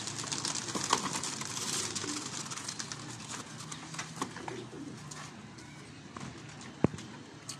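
Pigeons at a pigeon club coo softly among faint wing flutters and small knocks, a busy but quiet outdoor scene with one sharp tap near the end.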